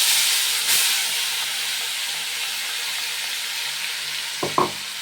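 Two medium onions fry in a pan with a constant loud hiss and sizzle close by. A couple of short clatters of a spoon against the pan come near the end, and nobody speaks.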